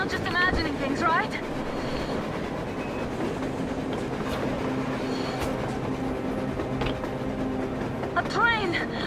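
In Metro Exodus, a train rumbles past on the surface in a blizzard with a steady rolling clatter, while voices speak over it.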